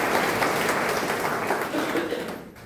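An audience at a language and culture gathering applauds to thank and congratulate people: dense, sustained clapping from a crowd that fades out toward the end.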